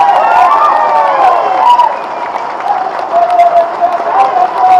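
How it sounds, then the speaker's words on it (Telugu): A crowd applauding at a political meeting with farmers in Kodangal, a dense, sustained roar of clapping and cheering lasting several seconds, loud and close with no pause. "ఒకసారి గట్టిగా చప్పట్లతో వారికి మనందరం అభినందనలు చెప్పాలి."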